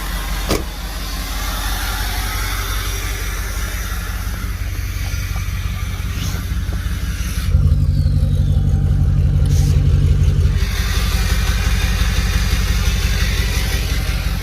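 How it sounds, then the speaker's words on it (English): A 6.0 Powerstroke diesel truck engine idles steadily up close with a low, chugging rumble that deepens and grows louder midway as the position shifts. "Here's just of her idling."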